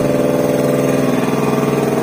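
A tire changing machine that handles wheels up to 24 inches runs with a loud, steady, close motor hum and a fast even pulsing drone, with no voices.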